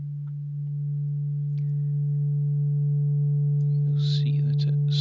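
A low sine-wave test tone hums steadily and grows slightly louder. Added harmonic distortion brings in faint upper overtones. Brief buzzy bursts flicker near the end.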